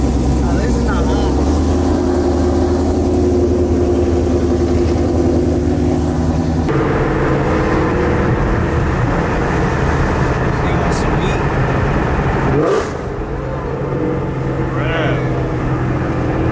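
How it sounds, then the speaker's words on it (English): A cammed Ford Mustang GT500 drones loudly from inside the cabin while cruising, then a gear change brings a quick throttle blip for a rev match, and the engine settles back to a lower rumble. "Manual rev match in there."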